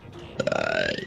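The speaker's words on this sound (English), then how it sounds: "That was a burp." A single rough, gurgling burp lasts about a second, close and loud, during casual chat.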